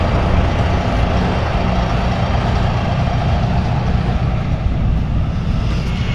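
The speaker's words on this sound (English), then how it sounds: "I'm not sure what kind of truck this is." A new truck's engine rumbles steadily at a heavy equipment recovery on a hillside road, a loud, constant low drone with no break.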